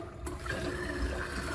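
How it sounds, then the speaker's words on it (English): A household toilet flushing during a repair job, a steady, close rush of swirling water that fills the short moment without pause and with no talking. "you want to go ahead and flush the toilet"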